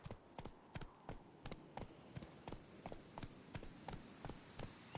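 Roach the horse clip-clops along in The Witcher 3, hooves striking in a steady, even trotting rhythm, close and clear over a quiet background.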